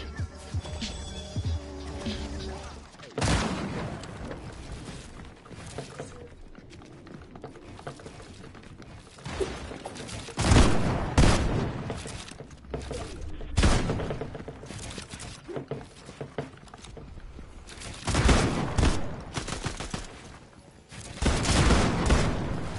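Gunfire in Fortnite during a ranked match: repeated bursts and single loud shots spread across the stretch, near and forceful, with some sharp impact and breaking noises between volleys.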